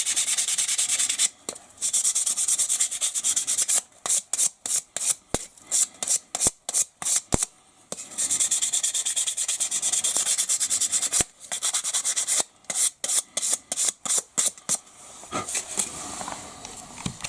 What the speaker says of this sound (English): a little light sanding on the brass tube, because they have a little bit of lacquer on them